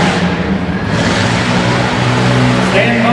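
A tough truck engine roars and revs continuously as the truck lands on the New Holland Arena floor in Harrisburg, PA, loud and sustained, with an announcer talking over it.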